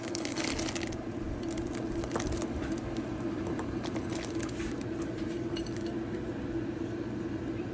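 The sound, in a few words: stirring milk, rice, cardamom, cinnamon and jaggery in pot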